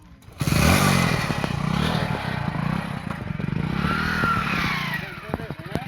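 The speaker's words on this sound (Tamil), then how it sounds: "இந்த பைக்கில் தான் வந்தோம். புது பைக்கு ஜூபிட்டரில்." A new TVS Jupiter scooter engine hums steadily while riding along a road at about 60 to 70 km/h, with wind rush and occasional rattles and bumps, close and continuous.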